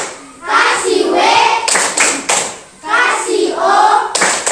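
A class of schoolchildren performs a rhythmic clapping chant, with group voices calling out between sharp unison claps in a repeating pattern, loud and close.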